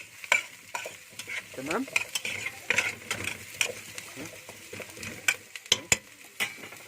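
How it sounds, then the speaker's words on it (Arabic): Potatoes and peppers stir-fry in a pan, sizzling steadily while a utensil scrapes and clatters against the metal in irregular strokes, close by, with a voice speaking briefly. "البطاطس لازم تتشوح كده كانها ايه تتحمر اهي"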